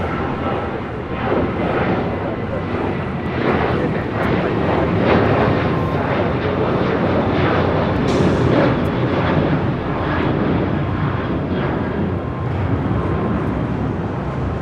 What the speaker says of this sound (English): This is Southwest Airlines 1657 taking off to Denver on a 737-700.